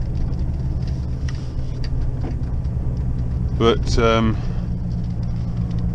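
A steady low rumble of a 420-horsepower truck engine fills the cab while carting straw on a frosty morning, with a voice briefly speaking over it.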